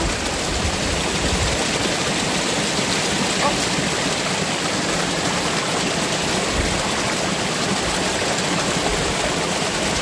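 Rushing water of a boiling river on the Kuril Islands, a dense and steady broadband roar from close by with no breaks, like a fast stream tumbling over rocks.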